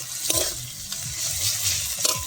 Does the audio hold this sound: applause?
no